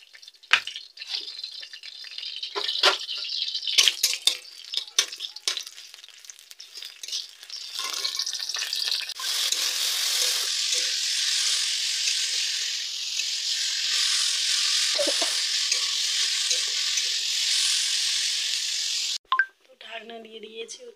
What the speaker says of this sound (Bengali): তারপরে উচ্ছেটাও ভেজে নিই তাড়াতাড়ি।